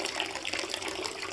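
Water from Dead Synchronicity pours and splashes steadily onto a generator, a soft continuous gushing wash without pauses, fairly quiet.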